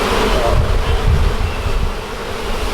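Honeybees buzzing inside a shed floor void, a continuous dense hum of a colony, loud and close with steady rumbling texture throughout and no talk.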